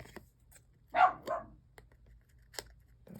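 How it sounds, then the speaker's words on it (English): Indoors, dogs give two short barks in quick succession, then a fainter third, over a quiet room with light clicks and taps. "Those are the dogs sounding the alarm that they want to come in"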